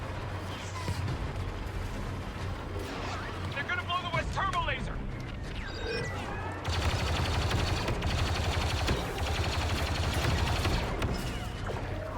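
Rapid bursts of gunfire in Star Wars Battlefront II rattle on and off, with dense automatic volleys growing louder in the second half amid chaotic background noise.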